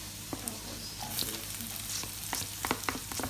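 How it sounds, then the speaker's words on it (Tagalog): Garlic frying in a pan while being stirred, a fried rice dish being cooked: a soft continuous sizzle broken by sharp scraping clicks of the utensil, close, with no speech. "Halu-haluin lang po natin ang ating bawang. Baka po kasi masunog."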